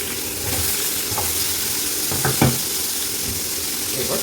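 Pumpkin pieces dropped into hot oil with tempering spices for kumror chokka, giving a steady sizzle with a few louder crackling bursts partway through and no talking.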